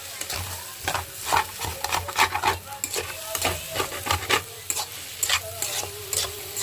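Egg and carrot frying in a pan, stirred with a spatula in repeated scraping strokes over a steady close sizzle, with no talking.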